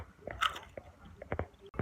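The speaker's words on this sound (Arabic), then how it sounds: "فهي بتتقرمش قرمشة حلوة أوي" Crunching of thick, vinegar-flavoured Egyptian potato chips being bitten and chewed, a handful of close, crisp bites and crackles over about two seconds with no talking.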